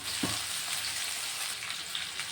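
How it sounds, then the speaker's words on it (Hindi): Pieces of pitted amla (Indian gooseberry) slide into hot oil with cumin in a kadhai, giving a steady, close, bright sizzle with a brief thump as they drop in. "अब हमने ये जो आंवले गुठली बिना के करके रखे थे वो धीरे धीरे करके सारे के सारे ही हम इस कढ़ाई में डाल देंगे"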